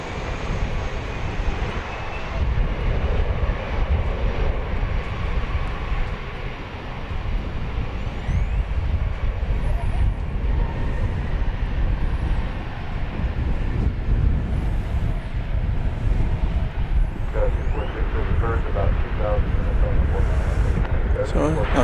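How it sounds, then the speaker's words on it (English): A CRJ 900 LR airliner, American Eagle flight 5630 from Tulsa, Oklahoma, arrives at DFW Airport with a steady, broad jet roar that holds loud and close for the whole stretch, while a voice talks over it. "CRJ 900 LR flight 5630 from Tulsa, Oklahoma was that one."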